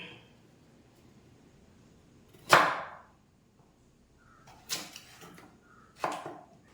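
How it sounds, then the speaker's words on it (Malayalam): Carrots being chopped with a knife, three or four sharp separate cuts spaced a second or more apart on a board, close and crisp against near silence. "നമ്മുടെ ക്യാരറ്റ് അരിയാം."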